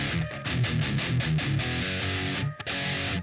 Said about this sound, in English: And the other track was a Mesa Boogie sound.